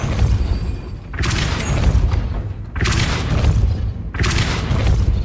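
Spell impacts from the Depulso force-push spell in the video game Hogwarts Legacy: three loud, booming blasts, each a broad roaring burst lasting over a second, separated by brief dips, with no talking.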